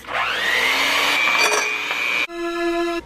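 Electric hand mixer beating cookie dough made with butter and vanilla, whining motor that spins up and holds a steady pitched hum, then shifts to a different buzzing speed.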